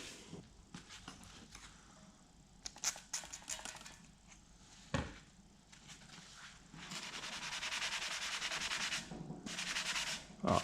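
Compound is rubbed by hand into the painted platform of a John Deere X300 mower, making a close, soft scrubbing and rubbing sound that gradually becomes steadier and louder near the end.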